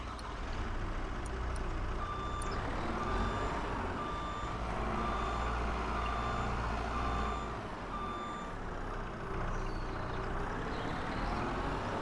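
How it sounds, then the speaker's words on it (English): A skid steer reversing off a trailer in the Farming Simulator 25 video game: a steady repeating backup beep over a low engine rumble, continuous and fairly close, no talk. "Gotta get the skid steer off the trailer."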